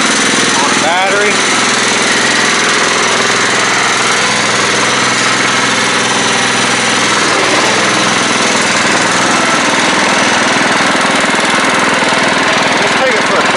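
A late-90s Craftsman LT 1000 lawn tractor with a 15.5hp Kohler Command OHV single-cylinder engine runs steadily, a loud, close, continuous clattering drone with someone speaking over it.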